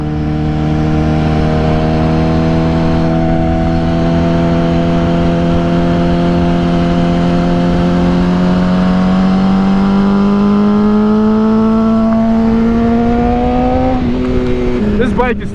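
A BMW S1000RR sport motorcycle with a BrenTune ECU flash is ridden through a road corner, its loud, close engine drone climbing slowly in pitch, then a burst of wind rush near the end.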